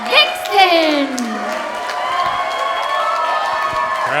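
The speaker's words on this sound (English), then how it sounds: "Crowd showing their approval for the champion" Wrestling crowd cheering for the reigning RWA Women's Champion at a live show, a continuous roar of voices with a loud shout rising and sliding over the sustained crowd noise.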